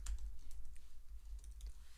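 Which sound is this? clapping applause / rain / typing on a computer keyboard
typing on a computer keyboard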